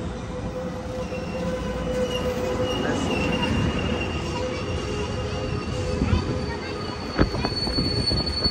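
An Amtrak Capital Corridor passenger train rumbles past at close range at a station, its wheels squealing and clicking over the rails in a steady, loud roar.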